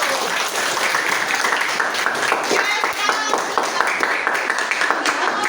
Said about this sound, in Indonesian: Nah, tepuk tangan dulu, Bunda.